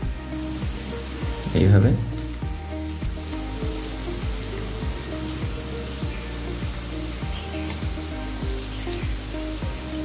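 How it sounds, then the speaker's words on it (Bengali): Pea pakoras frying in hot oil in a kadai, a steady bubbling sizzle with a brief louder burst near the start and a short spoken word over it. "এইভাবে আমি পুরো কড়াটায় তেলের মধ্যে দিয়ে দিলাম"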